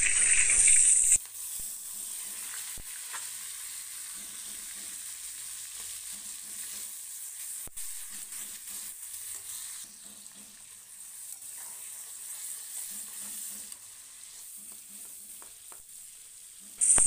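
Chopped tomato and slit green chillies fry in a pan with salt while being stirred for a prawn curry, a steady hiss running throughout under faint, evenly repeating low pulses.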